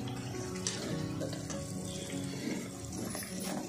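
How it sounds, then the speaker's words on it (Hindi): Water used to rinse a small bowl is poured into tomato-onion masala for paneer kadai, a steady close trickle and splash at moderate volume with no talking. "इसमें थोड़ा वाटी धो के डालूँगी मैं"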